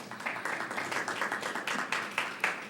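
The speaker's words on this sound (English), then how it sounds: "we want to give him a nice round of applause" An audience claps in a steady round of applause, dense patter with no voices, heard from a little way off.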